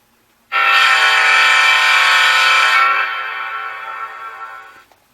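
Horn of a GE GTEL 8500 N scale model locomotive, a single sustained multi-tone blast of about four seconds that trails off with an echo.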